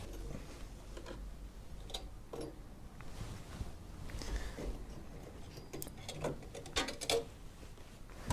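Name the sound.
unclipping processor fan from PC motherboard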